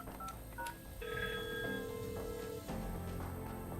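A Cisco MPP 508 desk phone beeps out keypad tones while an extension is dialed for a call transfer: a quick run of short, clear tones up close, with no voices.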